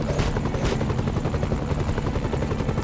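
A helicopter in the Iron Man video game drones steadily with fast, even rotor chopping, loud and continuous with no talk over it.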